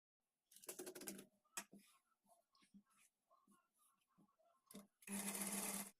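A sewing machine stitches the fall onto the edge of a saree in two loud, fast bursts of rattling stitching, the second steady and close, with softer handling clicks and rustling of fabric in between.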